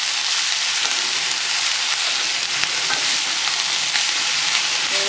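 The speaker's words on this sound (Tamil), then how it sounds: "கோஸை போட்டு ஒரு 2 பரட்டு பறிச்சுக்கணும்." Chopped cabbage stir-fried in a hot pan for a Tamil-style poriyal, a steady, close broadband sizzle with faint stirring scrapes, no voices over it.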